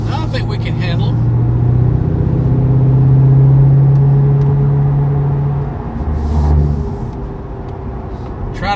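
Low steady engine hum of a car on the move, rising slightly then easing off, with faint road rumble underneath.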